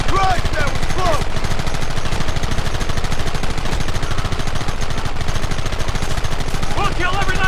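Rapid sustained gunfire in the Western video game Red Dead Redemption, dense bursts of shots close and loud throughout, with brief shouted voices near the start and end.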